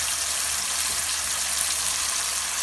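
Tomatoes fry in a pan with a loud, continuous, even sizzle that holds steady throughout with no other sounds.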